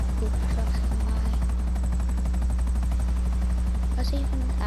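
Helicopter flying in Grand Theft Auto V, a steady loud rotor thrum with fast blade chop and a constant engine whine, running without a break.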